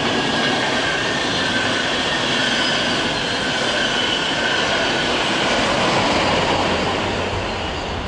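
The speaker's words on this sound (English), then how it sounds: "here we have what I think is an ex-InterCity set that's just been reliveried into regional" An ex-InterCity train set in regional livery rolling into München Hbf, a loud continuous rumble of wheels on rail with faint squeal, steady throughout.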